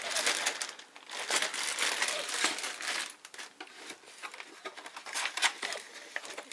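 Crinkling plastic bag full of plastic parts from a 1/72 scale F-111D/F Aardvark model kit, handled close up in a steady run of crackles and rustles with brief pauses, with no voices.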